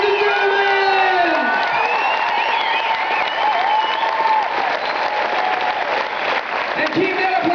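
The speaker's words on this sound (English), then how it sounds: "And keep that applause going for your fantastic housekeeping department" A cruise ship audience applauds and cheers for the Norwegian Gem crew, dense clapping with whoops and shouts throughout, and a voice speaking over the crowd.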